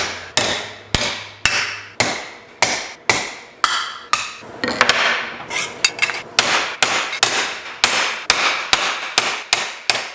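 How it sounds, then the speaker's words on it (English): A round-face hammer strikes metal tubing of a BMW roll cage again and again in a steady rhythm, each blow sharp and ringing, close and loud. "The round face hammer is probably not the best on it."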